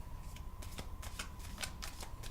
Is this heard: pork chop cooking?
no